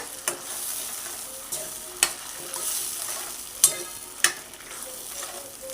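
A spoon stirs boiled bottle gourd into a cooking mixture for a Gujarati dudhi olo, with several sharp scraping knocks against the pan at intervals over a soft, low sizzle.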